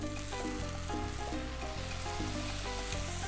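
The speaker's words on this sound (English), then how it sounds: "And then I'm gonna put that right into our hot pan. Let that sizzle." A steady, close sizzle crackles from a tortilla in a hot pan, a dense hiss with faint tonal hum underneath. Nobody talks.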